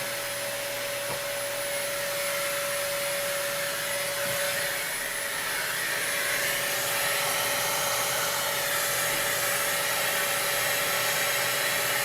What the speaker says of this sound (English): I'm gonna just try sucking the dust out with a vacuum